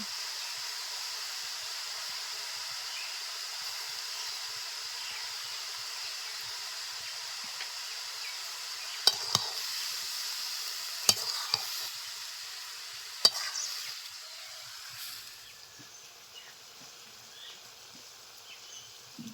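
Bele saak greens cook in a pan with a soft, continuous hiss, broken by a few sharp scraping stirs near the middle. Faint and close, with no talk.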